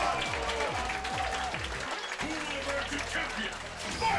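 A hyped tournament crowd at a Texas Super Street Fighter IV AE fighting-game event cheers and applauds steadily, with commentators talking over the noise and game sounds.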